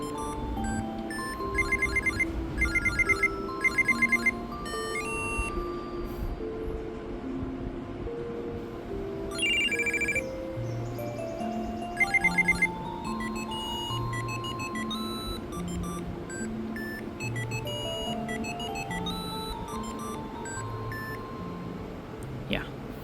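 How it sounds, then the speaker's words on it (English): A Monster Hunter crossover Digimon virtual pet device plays its electronic ringtone as a battle is won, a run of stepping square-wave notes with bursts of high beeps, heard close and steady with no voices. "as you win the different battle, you have the Monster Hunter ringtone"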